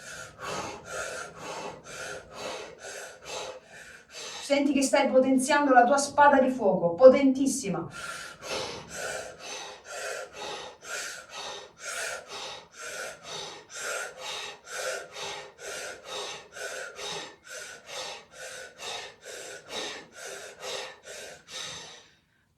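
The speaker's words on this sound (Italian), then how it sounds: "Respiro circolare, quello più efficiente e più efficace." Circular breathing exercise in a shamanic ritual: a burst of rapid, forceful rhythmic breaths and gasps lasting a few seconds, close and loud, surrounded by steady guided speech from a voice talking throughout.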